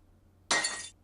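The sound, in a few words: glass breaking in video game No Ghost in Stay Home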